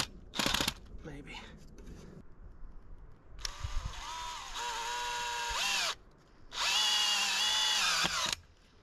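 A power drill driving a screw into log wood whirs in two sustained bursts, its pitch sagging as the screw bites in, after some brief handling clatter at the start.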